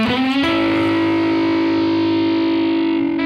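An electric guitar played through a tube amp with the gain turned all the way up: a single heavily distorted sustained chord ringing out loud and thick, fading slightly before a brief new attack at the end.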